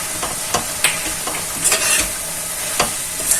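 Curry leaves hitting hot oil in a pan of chicken keema with methi, producing a loud, dense, continuous sizzle with a few sharp scrapes of a spoon, close up and with no voices.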